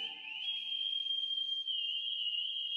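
A single sustained high whistle holds a nearly steady pitch with slight wavering, clear and alone against near silence.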